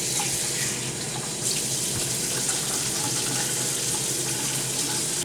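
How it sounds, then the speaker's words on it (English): Water running steadily from a kitchen tap for oatmeal, a constant close hiss and splash with no talking over it. "going to put in some water and milk"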